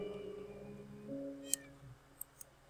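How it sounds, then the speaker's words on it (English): A cat meows in the Minecraft video game, a short tonal call with gliding pitch over quiet game ambience, followed by a few soft clicks. "These are cats."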